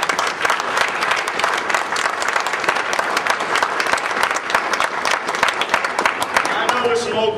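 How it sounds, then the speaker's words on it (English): An outdoor audience at a West Point plebe-parent weekend claps in sustained, dense applause that stays loud and even throughout, with a voice briefly heard near the end. "Ladies and gentlemen, let's give him a big round of applause."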